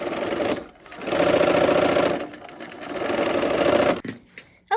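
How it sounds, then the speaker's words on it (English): A sewing machine stitches quilt squares along a marked line in steady running bursts, with a brief pause between runs and a short stop near the end, loud and close with no talk. "to sew this, we are sewing on that line"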